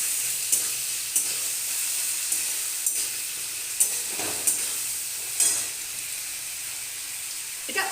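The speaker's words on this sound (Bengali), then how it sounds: "এবার এটাকে ফ্রাই করে নিই ভালো মতন" Chilies frying in a pan for bata fish jhal, a steady sizzle running throughout, with a spatula stirring and scraping every second or so, close and fairly loud, no voices.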